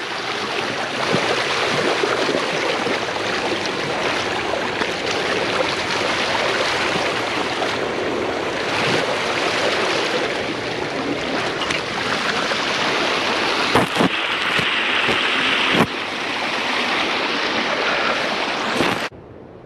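Water rushes steadily through a busted beaver dam, a loud, continuous broadband gush that holds for about twenty seconds with a few brief knocks near the end and no talk.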